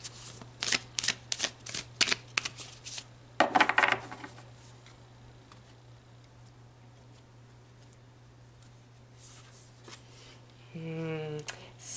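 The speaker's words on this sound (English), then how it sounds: "So let's pull one final card." Tarot cards are shuffled and drawn in a run of quick, crisp snaps and riffles over the first few seconds, then the room goes quiet over a steady low hum before a brief tonal sound at the end.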